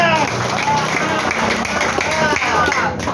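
Crowd applause at a political rally in Tinombala Raya, a dense patter of clapping from many people mixed with voices and general hubbub.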